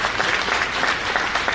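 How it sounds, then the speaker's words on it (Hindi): Loud, steady applause from a crowd of schoolboys at a girls' school event in Rajasthan, continuous dense clapping with no gaps. "लड़के ताली जोरदार बजाए"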